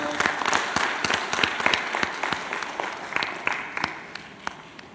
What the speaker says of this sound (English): Give a big round of applause for Nirmal Frederick